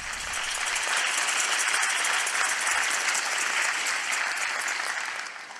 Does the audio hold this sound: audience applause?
yes